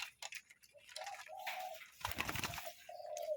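Spotted doves kept as decoy birds at the Chakrapong breeding camp give soft, repeated coos at close range, broken by a brief burst of broadband noise.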